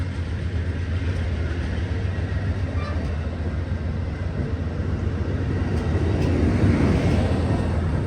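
An Amtrak Coast Starlight passenger train rumbles through Oakland Coliseum station with a steady, loud roar of rolling wheels and engine, swelling slightly toward the end, with no voices.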